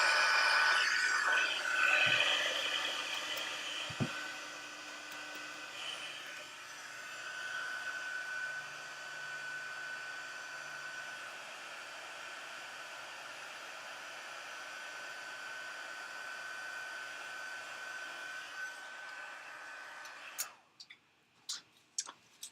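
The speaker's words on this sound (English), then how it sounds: "we're going to heat that up with the heat tool" A heat gun blows with a steady whining hiss for about twenty seconds while making a paper card, then cuts off, followed by a few small clicks.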